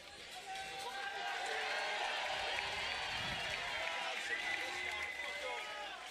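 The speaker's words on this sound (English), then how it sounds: "Such a good energy from the crowd. Everyone is cheering." A crowd cheers at the finals of a pro climbing competition, a dense, sustained roar of voices and shouts held at a fairly even level throughout.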